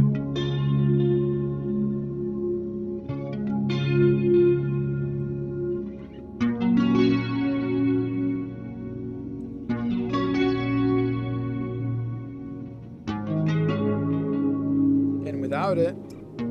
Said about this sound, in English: the tape machine is trying to catch up to the synchronization, and then you put your finger again and you slow it down and you hear this.